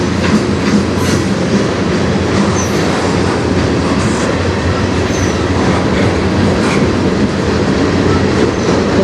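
A freight train with auto rack cars rolls steadily past close by, a loud continuous rumble of wheels and cars with faint clatter throughout, no voices.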